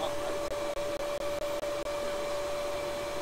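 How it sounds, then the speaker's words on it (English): An HVAC vacuum pump running to pull a vacuum on a system, giving a steady mechanical hum with a constant tone and several brief regular dropouts. "So as we pull a vacuum on the pump"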